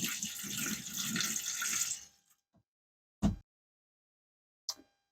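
RV antifreeze is poured into a TrailManor camper's drain in a short, gurgling stream that stops abruptly, followed by a couple of isolated drips or knocks in quiet.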